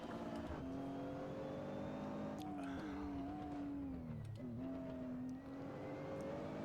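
A race car in the Assetto Corsa sim racing game hums along with engine tones rising and dipping through gear changes, a fairly quiet steady drone with a few sharp clicks.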